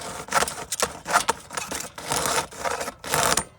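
A hacksaw cuts through plastic guttering in a run of quick rasping strokes, each push-pull burst separated by brief pauses, close and fairly loud with no talking.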